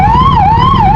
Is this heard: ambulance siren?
yes